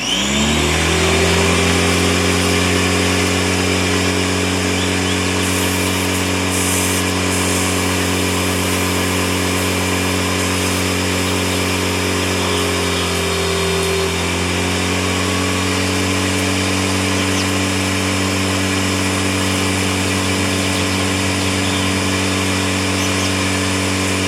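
A power washer's engine runs at a steady, loud drone with a brief dip and recovery partway through as air in the hose line passes, then settles back into an even hum.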